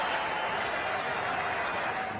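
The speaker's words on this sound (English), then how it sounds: "Getting very well applauded off the ground." Cricket crowd at an Australia versus England test match applauding batsman Mike Hussey off the ground, a steady, dense wash of clapping from a large stadium crowd with no break, fairly distant and even throughout.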